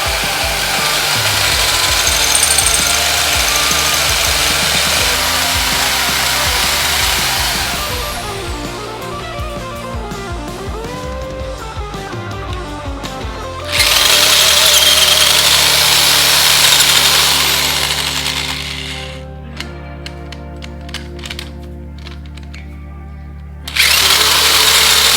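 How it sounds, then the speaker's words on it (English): A power drill bores through trailer hitch bolt holes, loud and steady with the motor rising and falling, then a short pause before another sustained burst of grinding drilling and a final restart. "I'm going to take a drill bit and then just kind of drill the inner portion out so it'll pass all the way through."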